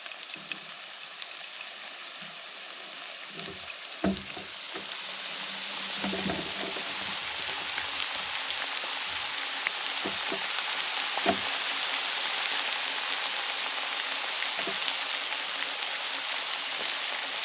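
Crappie fillets fry in a pan of hot oil, a dense, steady sizzle with crackling pops, close and continuous, with a few soft knocks and scrapes early on.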